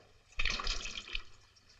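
Bottled water from a cooler is poured out in a short, soft splashing gush that lasts about a second and then fades, with no talk over it.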